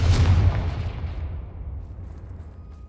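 A Confringo explosion spell detonates in Hogwarts Legacy with a heavy, close boom and a deep rumbling tail that fades away over a couple of seconds.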